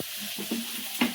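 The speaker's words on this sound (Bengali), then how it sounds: "তরকারিটা ভাজা হয়ে গেছে," Garden vegetable curry sizzles in hot oil in a pan, with a couple of quick spatula stirs and clinks during a short, close burst of frying.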